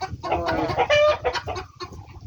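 A chicken clucks loudly and close by, a quick run of throaty calls followed by a couple of softer clucks.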